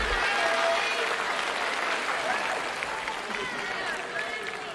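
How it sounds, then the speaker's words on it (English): A school audience at a spelling bee applauds the participants, a sustained even round of clapping from a crowd with faint murmuring voices mixed beneath it. "Let's hear a hearty round of applause for all our participants."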